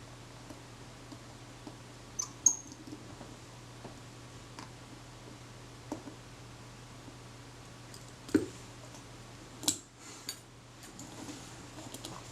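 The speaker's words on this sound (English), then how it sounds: "As usual, get all three screws in position, then go around and tighten them up." Small screws being driven into an Ambi Silette camera shutter during servicing, quiet isolated metallic clicks and taps spaced irregularly over near-silence.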